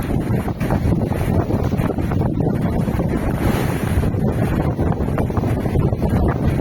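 Strong Meltem wind buffets the microphone aboard a sailboat over rushing, crashing waves, a continuous loud roar of rough water at sea in the Aegean between Kos and Astypalea, with no voices.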